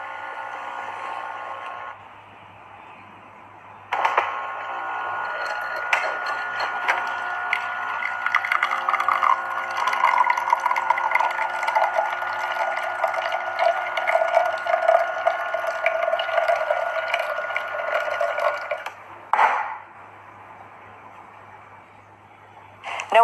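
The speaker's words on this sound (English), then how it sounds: "It will heat up and it will start to brew a delicious espresso in under a minute." An espresso machine heats up and brews, a steady mechanical pump hum with a faint rattle that switches on abruptly, holds loud and even for about fifteen seconds, then cuts off, quieter machine noise on either side.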